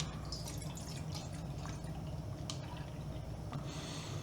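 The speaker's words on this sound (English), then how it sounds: "We're gonna pour some Canadian milk in here." Canadian milk poured into a steaming pitcher on a Gaggia Classic espresso machine, a steady close liquid pour running throughout with no talking.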